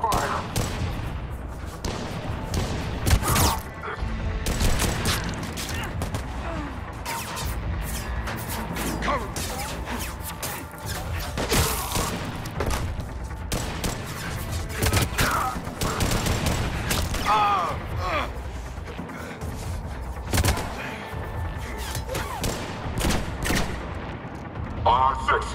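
Dense, continuous gunfire in Mass Effect 3 Legendary Edition during the Saving Rannoch mission, with rapid overlapping shots and crashes that run throughout as a voice talks over the combat.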